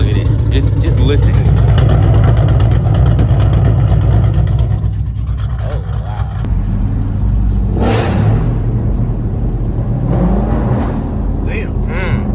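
A twin-turbo Corvette C8 rumbles at a deep, loud idle with occasional rising revs, heard up close outdoors while a person talks and reacts over the engine.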